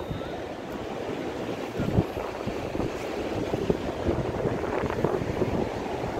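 Sea waves wash ashore at Ain Diab beach in Morocco, a constant rushing surf with wind buffeting the microphone and no voices.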